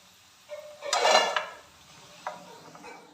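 A metal spoon scoops fried jackfruit seeds out of a frying pan, making a few close scraping clatters and a short rattle against the pan, followed by a lighter clink, with no talk.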